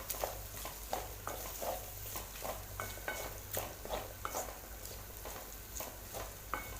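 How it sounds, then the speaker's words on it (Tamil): Potatoes fry in a pan over a medium flame while a spatula stirs them, steady sizzling broken by regular scraping strokes against the metal, close and fairly quiet with no voices. "உருளைக்கிழங்கு நல்லா போட்டு நான் மீடியம் ஃப்ளேமில் வச்சு நான் ஃப்ரை பண்ணிகிட்ருக்கேன்."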